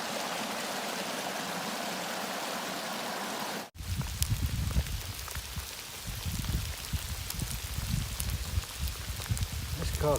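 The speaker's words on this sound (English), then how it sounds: "It's called cold rain." Cold rain mixed with tiny ice pellets falling along a riverside hiking trail, with a steady hiss at first, then a closer busy patter of drops and pellets striking the ground and gear, with constant rushing water underneath.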